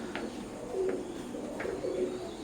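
Young teddy pigeons, recently separated from their parents, coo softly in a few repeated low calls over a steady background hiss, with no speech.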